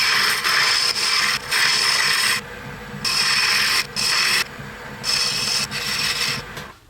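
Maple and ebony wood on a handmade lighthouse ornament is trimmed in rhythmic bursts of close, loud rasping, about six strokes separated by short pauses, with no voices.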